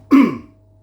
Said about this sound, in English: I'll just clear my throat there